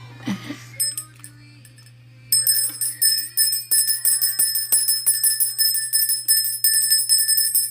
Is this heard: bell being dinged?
yes